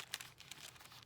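Onion skin typewriter paper crinkles and crackles up close in a short, dry burst, with a few sharper crackles standing out from a steady rustle and no talk.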